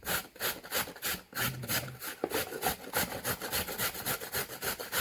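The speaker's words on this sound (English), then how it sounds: "So we're gonna just grate this piece for you to see." Something is grated on the finest side of a grater for Jamaican grater cakes, a quick, regular scraping rhythm of rasping strokes, close and steady over several seconds.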